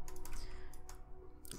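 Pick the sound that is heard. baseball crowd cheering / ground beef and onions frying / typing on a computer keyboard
typing on a computer keyboard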